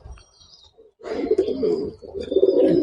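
A pigeon coos close by, a faint soft note followed by two louder, throaty rolling coos in quick succession.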